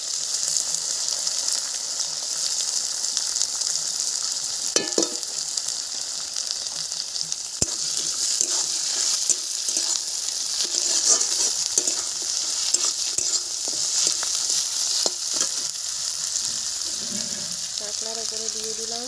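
Desi crab frying in a pan for a spicy Bengali crab fry, a continuous close sizzle broken by scraping, stirring knocks and clatter, with a brief voice near the end.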